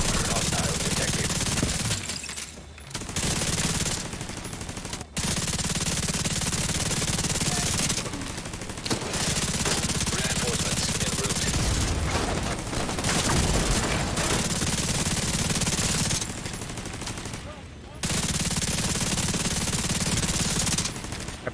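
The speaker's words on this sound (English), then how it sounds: "bullets literally just traced an outline on that guy" Heavy, sustained automatic gunfire in the video game Division 2, long loud bursts broken by brief pauses over about twenty seconds, with game sounds underneath.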